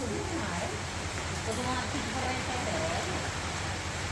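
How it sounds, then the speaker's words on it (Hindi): Steady rain pouring down outdoors in a continuous dense hiss, loud and unbroken throughout. "बारिश आ रही है"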